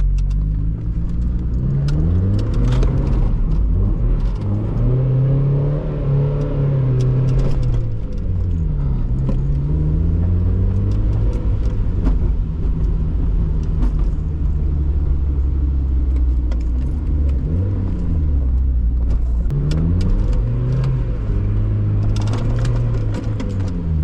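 Engine of a 1999 Mazda Miata with an open differential and modest power, droning steadily while driving, rising and falling in pitch through revs and gear changes, close and loud throughout with no talk.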